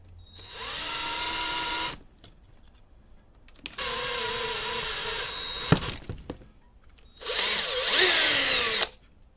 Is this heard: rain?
no